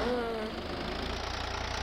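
Tractor engine in Farming Simulator 22 running at a steady idle-like drone with a low rhythmic throb, continuous and moderately loud, while someone talks over it.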